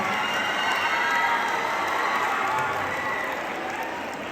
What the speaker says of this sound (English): I think we must clap for ma'am